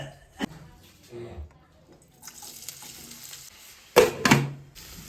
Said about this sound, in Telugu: ఫస్ట్ ఇగో ఆనియన్స్ వేసుకుంటున్నా కట్ చేసిన ఆనియన్స్